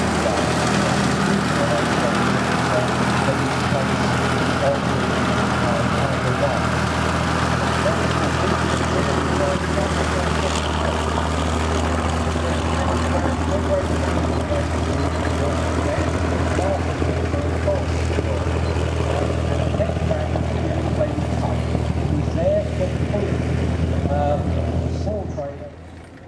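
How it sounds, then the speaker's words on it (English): A Krauss Maffei 8-ton half-track rumbles past at a tank show, a loud continuous engine drone with steady low rumble that fades at the very end. "The 8-ton, the Krauss Maffei 8-ton vehicle drives past again."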